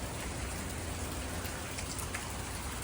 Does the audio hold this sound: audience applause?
no